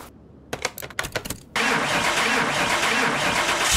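A BMW M4 engine in Car Mechanic Simulator 2021 cranks with a few sputtering starter bursts, then catches and settles into a steady, loud idle, with no talking over it.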